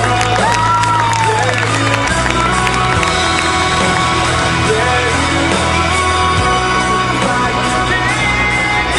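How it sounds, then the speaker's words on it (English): Audience at a county fair show, Cumming Fair, breaking into loud, sustained applause with cheers, whoops and yells from a crowd close by, continuous throughout. "And Tad, this round of applause is for you, sir."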